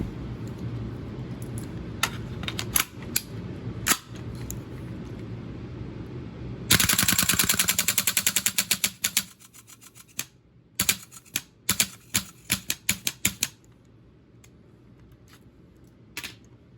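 An automatic gas blowback airsoft rifle fires a rapid full-auto burst of sharp, loud cracks, then weaker, uneven single shots and clicks as the gas pressure fades before the magazine empties, preceded by scattered handling clicks.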